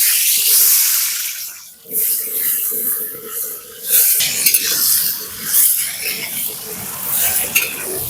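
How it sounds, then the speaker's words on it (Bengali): Potatoes fry in hot kachchi ghani mustard oil in a village kitchen, a loud, close, continuous sizzle and spatter with brief dips and occasional clinks of a utensil stirring the pan. "প্রথমে আলুটা ভেজে নেবো।"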